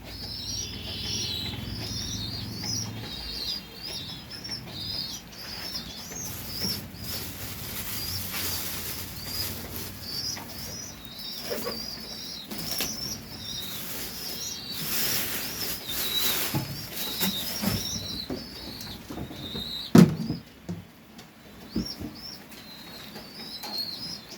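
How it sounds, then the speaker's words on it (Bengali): Pigeons peck and shuffle at their feed of mixed grain and paddy, with soft wing flutters and faint bird calls over a steady background murmur. "সবগুলো কি সুন্দর ধ্যান খাইতেছে।"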